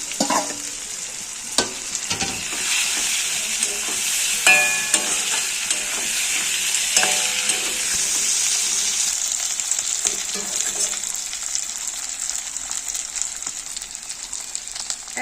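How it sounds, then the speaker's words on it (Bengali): Spice-coated morola fish frying in hot oil in a pan, giving a loud, steady sizzle that runs throughout with a few sharp clicks and knocks early on. "এবার আমি মশলা মাখা মাছগুলো দিয়ে দেবো তেলের মধ্যে।"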